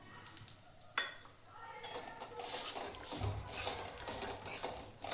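A ladoo mixture with grated coconut stirred in a pan, with scraping and clinking of a spoon against metal, a sharp clink near the start and soft faint stirring after it, with low talk in the background.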